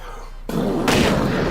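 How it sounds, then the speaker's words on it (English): A big explosion in a kaiju monster movie bursts in suddenly, with a sharp, loud blast followed by a broad rumbling roar. "Big ass explosion coming."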